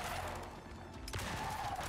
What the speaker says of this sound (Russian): Выстрелы обычными патронами по боссу-скорпиону